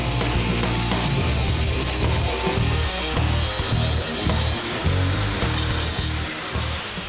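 A grinder cuts through the welded steel quarter panel of a 1969 Charger, with a loud, continuous, close, harsh whine that wavers slightly in pitch as it bites into the metal.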